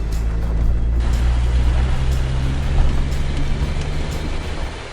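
A Jeep Cherokee with a straight-six engine crawls up a dirt hill on light throttle, giving a steady low engine rumble heard close throughout.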